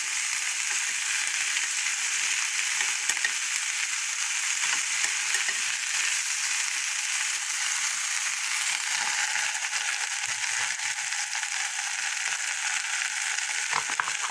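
Okra pieces frying in a pan, a steady soft sizzle with faint crackles and occasional stirring sounds, no voices.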